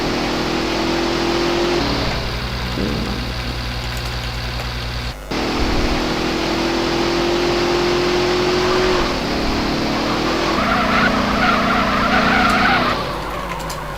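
Taxi car in the MTA multiplayer game drives with a steady engine drone and long tyre-skid squeals, an engine surge and revving through the middle, continuous and fairly loud with no talking.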